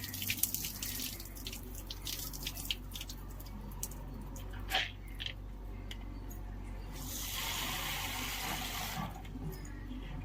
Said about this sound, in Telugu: మట్టి ఉంటే రెండు మూడు సార్లు చక్కగా నీళ్ళతో కడిగి